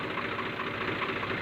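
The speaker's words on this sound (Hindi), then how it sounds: "तो अभी हमने इसका स्टार्ट किया तो अभी ये अच्छी रेस पे चल रहा है।" A Swaraj 735 FE tractor engine runs after a bull pinion bearing repair, a steady close diesel chug with even rhythmic pulses and a constant loud drone.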